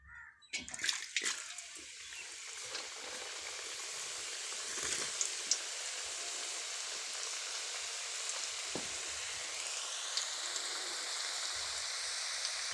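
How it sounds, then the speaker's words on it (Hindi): Potato chips deep frying in hot oil, giving a steady soft sizzle and bubbling hiss that continues throughout after a few brief clatters at the start, with no talking. "हम सारी चिप्स तल लें, फिर आपको फाइनल लुक दिखाते हैं।"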